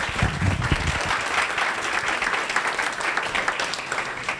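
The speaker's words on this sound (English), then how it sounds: "give her another round of applause" A crowd applauds steadily at a student senate session, dense clapping filling the room at close range for the whole stretch with no talking over it.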